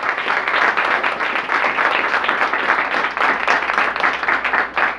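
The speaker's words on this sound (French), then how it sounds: "je vous demande d'applaudir" Audience applause fills a school competition hall, a dense, steady wash of many hands clapping at close range for the full stretch without pause.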